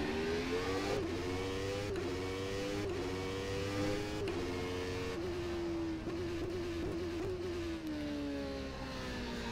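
McLaren Shadow race car engine in rFactor 2, a steady high-pitched drone that climbs and dips through gear changes with brief shifts in tone, loud and continuous with no talking.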